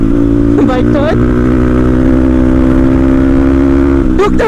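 A Crossfire RM 250 motorcycle climbs a hill, its engine droning loud and close in a steady, sustained note, with short rising whines near the start and the end.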